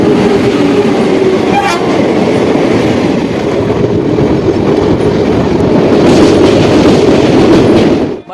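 Danapur Jogbani Intercity Express train rolling loudly and steadily, with rhythmic wheel clatter throughout and a brief horn toot early on.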